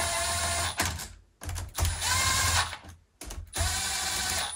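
An impact gun running at low speed whirs and rattles in several bursts, stopping briefly between runs, close by and fairly loud.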